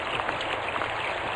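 A dense, constant hiss of heavy cloudburst rain pours down in a steady roar with no pauses.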